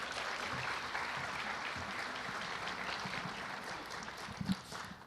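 An audience at an education lecture applauds steadily, a dense, even clapping that holds at moderate loudness and starts tapering near the end.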